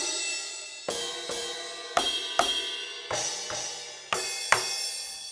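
An electronic drum cymbal is struck on top repeatedly in an uneven rhythm, several bright shimmering crashes overlapping and ringing out, with no voices.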